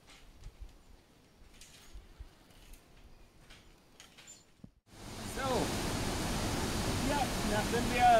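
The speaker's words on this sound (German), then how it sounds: "das ist ein Wasserfall, ich bin ziemlich weit oben" A waterfall in Costa Rica's mountains, quiet at first with faint sounds and a bird, then a sudden loud, steady roar of falling water taking over partway through.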